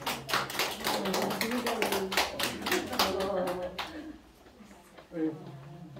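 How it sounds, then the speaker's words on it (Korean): A classroom audience gives a burst of quick, close clapping during a lecture, fading into a few scattered claps, with a voice speaking under and after it. "박수 주세요."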